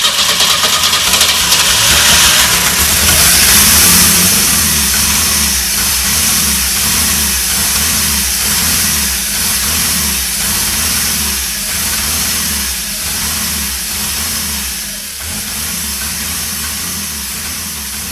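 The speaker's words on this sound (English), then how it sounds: "We got the car running for the first time in over 30 years." A Pontiac Fiero engine runs for the first time in over 30 years, loud and close. It revs up briefly, then settles into a rough, pulsing idle with an uneven rhythm.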